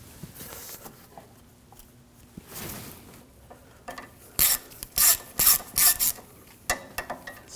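A ratchet wrench tightens 10mm bolts on the thermostat housing of a 2007-2013 BMW 328i 3.0L, starting with faint scraping and then giving several sharp, close clicking bursts in quick succession.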